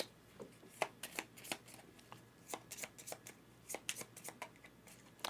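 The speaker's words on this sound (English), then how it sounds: "now we shuffle the deck" A deck of cards riffled and shuffled during a solo tabletop card game session, a rapid run of crisp papery flutters and snaps repeating through the clip, close and clear with no talking.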